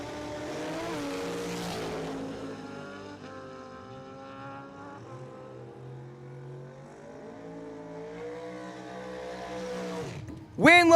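Drag racing at Cordova Dragway as a dragster and a motorcycle run down the strip, engines droning in a long rising and falling whine that fades into the distance, while an announcer talks over it.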